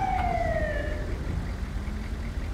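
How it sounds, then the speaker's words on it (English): Siren of an ambulance in the Grand Theft Auto 5 video game wails in falling sweeps over a steady low engine rumble, loud and close, with no talking. "That's the game's ambulance."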